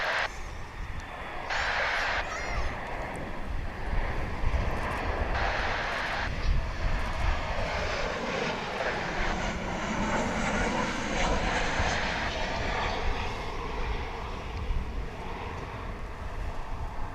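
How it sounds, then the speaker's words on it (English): American Airlines jet airliner from Albuquerque passing at DFW, a sustained engine roar building and lingering over about seventeen seconds, with brief bursts of other noise and a voice talking over it. "here comes American Airlines Flight 1670 from Albuquerque"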